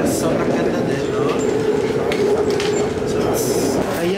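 High-speed train ride in Taiwan: a steady, loud rumble and rushing roar from inside the moving carriage, with a faint rattle, continuous throughout while people talk over it.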